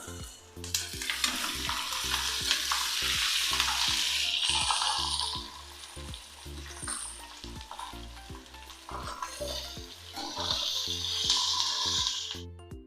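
Capsicum sizzles loudly in spice paste in a hot pan, a continuous frying hiss swelling and easing as a spatula stirs with steady rhythmic scraping, close and alone.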